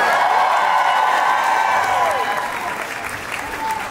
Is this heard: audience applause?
yes